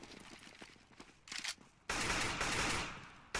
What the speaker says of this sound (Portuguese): soltando alguns tiros pra ele de smoke